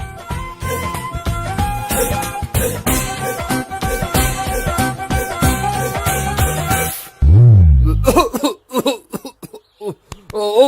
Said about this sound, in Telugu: ఈ దగ్గు నా దగ్గర దగ్గేవు కాబట్టి సరిపోయింది